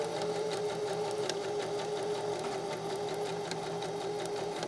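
A sewing machine runs steadily while blind hemming a skirt hem, with the fold butted against the presser foot; the motor gives a continuous, close, even whir with a fast rhythmic needle tapping throughout.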